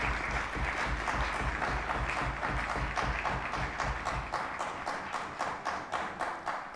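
Sustained applause from a seated audience at a media conference on democracy and good governance, steady dense clapping that thins slightly toward the end, with no talking over it.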